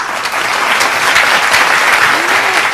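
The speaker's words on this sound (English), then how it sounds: "please give a round of applause for all of us today" Dense, steady audience applause fills a large hall at the opening ceremony of a medical congress, many hands clapping loudly and continuously with no gaps.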